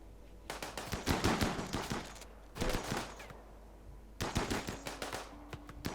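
Bursts of automatic gunfire in the colony game Rimworld, rapid loud volleys in three clusters separated by short pauses, no voices.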